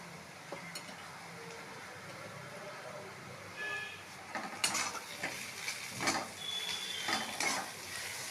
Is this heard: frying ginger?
yes